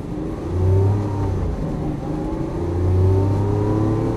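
Lamborghini Aventador LP700-4 engine on a track, a steady loud drone that swells twice as the car accelerates, its pitch rising and holding through the pulls.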